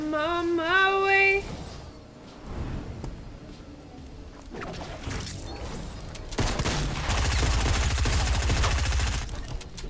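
Rapid gunfire bursts in a Fortnite Battle Royale match, loud and dense, with a rattling automatic stream that swells toward the end after a brief synthetic game tone at the start.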